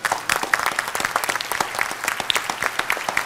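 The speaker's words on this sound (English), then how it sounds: "I think that deserves a round of applause" An audience at the Iron Viz Championship data visualization contest gives a round of applause, many overlapping sharp claps, fairly close and steady, with no speech.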